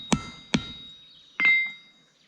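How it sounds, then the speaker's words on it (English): Hammer striking copper wire pins in a skinning knife handle: two sharp, close taps half a second apart, then a heavier ringing metallic hit that decays slowly. "A few hits with a hammer on those copper wires and they'll spread out"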